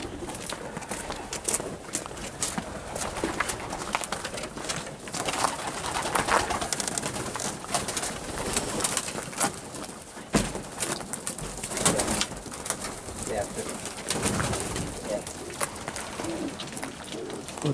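Racing pigeons cooing continuously in a loft where breeding birds are kept, a dense chorus of overlapping coos with occasional wing flaps and scuffles, close and moderately loud.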